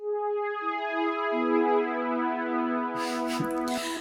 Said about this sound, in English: this is a classic brass pad,